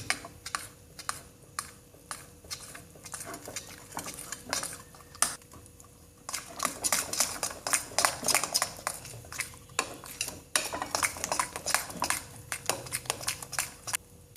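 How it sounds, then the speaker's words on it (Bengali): A spoon works rice flour into a batter of mashed drumstick leaves, scraping and clinking against the bowl in quick, irregular close-up strokes that grow busier partway through, with no talk. "এবার আমি চামচতে মেখে দিচ্ছি"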